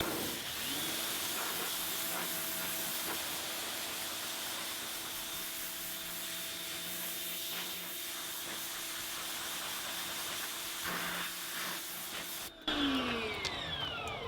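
A steady, loud hiss of a pressure washer spraying water onto a car's paint runs continuously over a low motor hum, then cuts off abruptly near the end.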